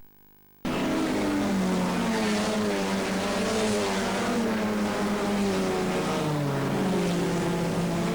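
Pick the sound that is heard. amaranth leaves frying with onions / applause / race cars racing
race cars racing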